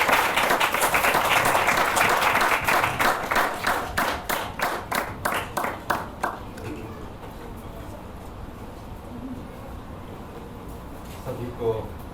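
A church congregation applauds to welcome a speaker, dense clapping that turns into rhythmic unison claps, then fades into quiet with a few faint sounds.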